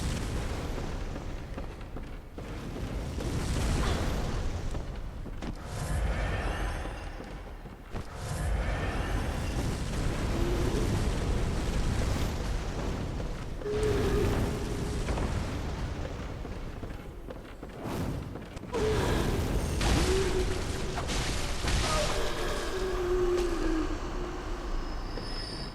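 Fireworks explosions inside a cursed Pthumeru Ihyll chalice dungeon in Bloodborne, a series of loud booming bursts separated by brief lulls, with crackling trails and rumbling echoes filling the space.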